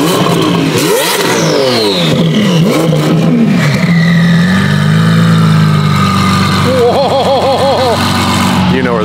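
A loud twin-turbo Lamborghini Aventador SVJ engine revs hard with rising and falling roars and crackles, close by, with voices mixed in.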